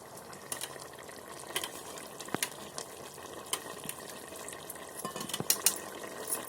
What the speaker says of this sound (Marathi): आता त्याच्यामध्ये मी डाळ ओतते